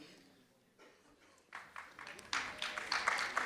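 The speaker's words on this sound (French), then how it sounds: "Et ils applaudissent." An audience in a hall at a Belgian event against poverty stigma begins applauding, scattered claps swelling into denser, louder clapping over a few seconds.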